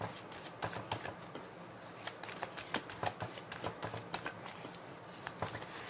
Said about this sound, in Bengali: আরও আমরা কার্ড নিয়ে নেব।